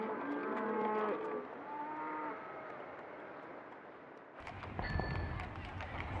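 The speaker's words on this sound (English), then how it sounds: "The ramshackle carts were drawn by cows." Cows drawing ramshackle carts moo repeatedly in the open, several low calls overlapping at moderate distance, followed by a rumbling shift in background noise.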